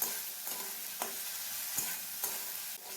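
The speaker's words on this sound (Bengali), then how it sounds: "মশলাটা খুব ভালো করে কষিয়ে নিচ্ছি" Chilli-ginger spice paste being sautéed in a pan for a beetroot and carrot curry, a soft continuous sizzle broken by a few sharp spatula taps and scrapes at regular intervals, quiet and close, no speech.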